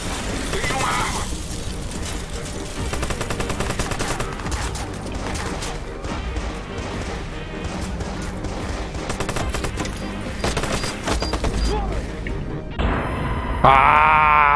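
Rapid bursts of gunfire rattle through a Watch Dogs video game firefight amid game effects and music, with a player talking over the action in Portuguese.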